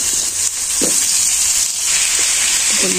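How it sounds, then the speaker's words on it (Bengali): Potato pieces fry in hot oil in a Bangladeshi village kitchen with a loud, continuous sizzle and a few soft clicks and knocks from the pan underneath. "আলুগুলো লাল করে ভালো করে ভেজে নিয়ে নেবো।"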